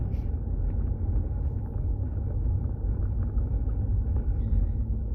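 A steady, deep exhaust rumble from a 2015 Subaru WRX with an Invidia R400 aftermarket muffler drones continuously at a constant idle, loud and close, with no talking.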